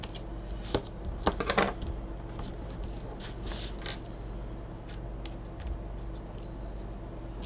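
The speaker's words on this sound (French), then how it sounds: "j'essaye de couper au ras de mon cardstock encore une fois" Scissors snip through cardstock while trimming a black-and-white Christmas card, a run of close, crisp cuts early on that turn sparse and quieter over a soft steady background.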